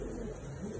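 Kyrgyz pigeons coo softly in a short, faint murmur, low and continuous, with no voices.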